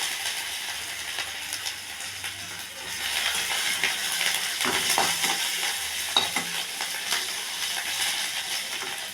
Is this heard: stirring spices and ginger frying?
yes